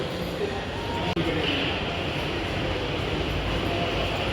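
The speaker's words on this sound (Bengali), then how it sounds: "এখন আমরা নিউ দিল্লি মেট্রো স্টেশনে নেমেছি।" A metro train rumbles at New Delhi metro station, a loud, constant roar of rolling carriages with one brief click partway through and no clear speech.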